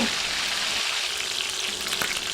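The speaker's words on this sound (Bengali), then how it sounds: "একেবারে সবগুলো পিস ভাজা যাবে না তাই প্রথমে চার পিস ভাজবো" Chicken pieces fry in hot oil in a pan for a roast, a loud, continuous close sizzle with no voices.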